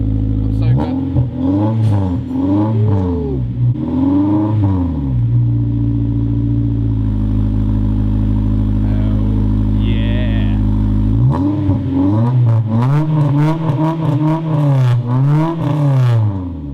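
A Honda Civic Type R EP3 with a full Spoon exhaust revs hard in repeated rising and falling blips, holds a steady high note for several seconds, then blips again; a voice speaks briefly over the engine.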